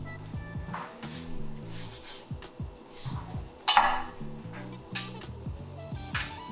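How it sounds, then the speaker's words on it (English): Oven-baked chicken wings are turned over on a baking tray, giving scattered metallic clinks and light taps from tongs against the tray, up close and fairly quiet over a low background. "We're gonna flip them over and then get them back in the oven."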